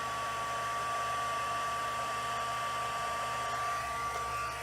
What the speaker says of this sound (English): pulling in my heat tool. I'll just be melting the powder.